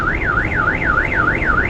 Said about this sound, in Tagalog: Nag-alarm ang sasakyan.